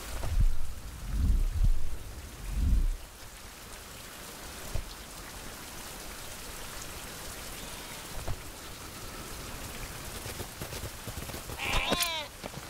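A goat in the survival video game Survival: Fountain of Youth on Iron Island gives a short bleat near the end. Steady rain-like ambience and a few dull thuds come first.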